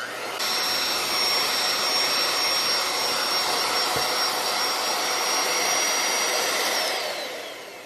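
Electric mixer beating angel food cake batter for a gluten-free cake, a loud, steady whirring drone that runs unbroken from start to finish with no voices over it.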